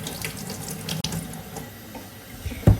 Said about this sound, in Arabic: بدنا بس نغسل البطاطا كتير منيح